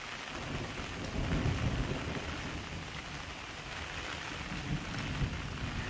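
Heavy rain pours steadily during a thunderstorm with lightning in Point Pedro, Jaffna, Sri Lanka, heard from a rooftop, with low rumbling thunder swelling around the middle of the dense, continuous downpour.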